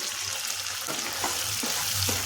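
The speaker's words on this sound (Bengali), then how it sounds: "এখন এটা খুব ভালোভাবে কষতে হবে। টমেটোটা 1 মিনিট কষিয়ে নেব।" Tomato paste with spices and a splash of water sautéing in a pan, a steady moderate sizzle with soft scraping stirs and a low background hum, no talking.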